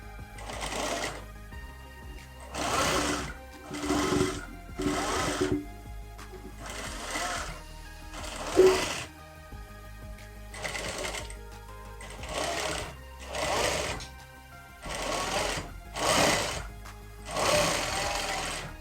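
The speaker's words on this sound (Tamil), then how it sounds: "இப்போ இதை நான் வந்து அப்படியே தைச்சி காட்டுறேன்" A sewing machine stitches a girl's skirt-and-blouse outfit in repeated bursts of fast mechanical whirring, each run lasting about a second or two with short pauses between, steady and close with no talking.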